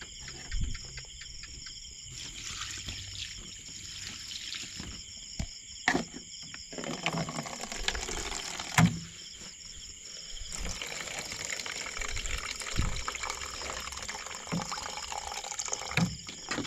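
Water runs and splashes while cassava is washed by hand, with intermittent sloshing, drips and bumps over a steady high insect-like hiss.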